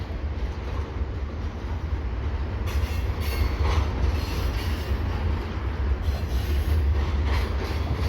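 A slow CPKC eastbound intermodal freight train rolls past at Dorval on its way into the St. Luc yard, giving a steady low rumble of wagons with faint wheel squeal and occasional clacks, no talking.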